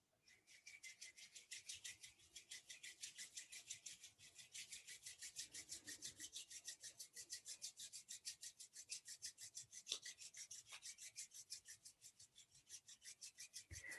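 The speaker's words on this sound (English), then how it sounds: "Rub the bottoms of the feet together and the palms together." Palms and the soles of the feet rubbed briskly together during a kundalini yoga kriya, a steady rapid rasping friction with fast even strokes running continuously and close, with no talking.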